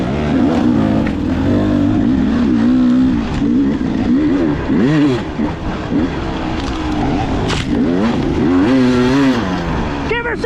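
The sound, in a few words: two-stroke dirt bike engine revving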